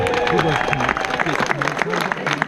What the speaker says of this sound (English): Give them a nice round of applause, everybody.